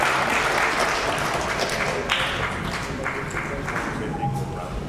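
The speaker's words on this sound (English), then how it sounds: "Let's give them a round of applause." Audience applauding volunteers called up from the crowd at a science lecture on waves, a steady dense clapping that fills the whole stretch at moderate loudness.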